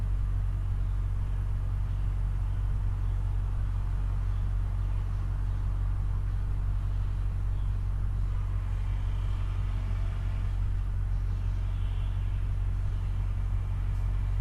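A Toyota Land Cruiser idles steadily as its suspension raises to the highest position, a low constant engine rumble with a faint mechanical hum, close and unbroken, with no talking.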